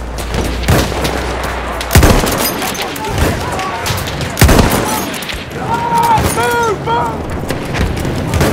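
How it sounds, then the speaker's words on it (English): Video game gunfire battle with an enemy machine gun: loud bursts and single booming shots repeat across the clip, with muffled voices and radio-like chatter mixed underneath. "Enemy machine gun over there!"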